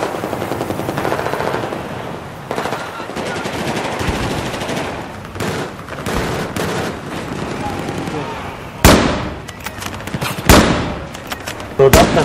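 Gunfire in Battlefield 4, bursts of automatic weapon fire alternating with louder single sharp shots near the end, heard under intermittent talk between players.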